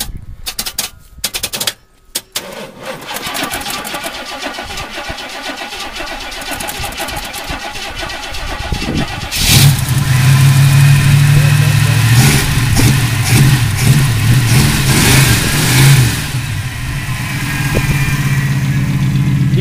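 An Oldsmobile 455 V8 cranks hard from cold for several seconds, then catches and roars to life, settling into a loud, rough, lumpy idle close by; people talk over the engine.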